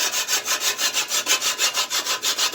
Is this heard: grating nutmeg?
yes